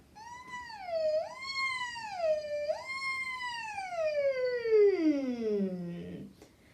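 A voice imitates a siren, sliding up and down in a few wailing sweeps before a long falling tone that trails off.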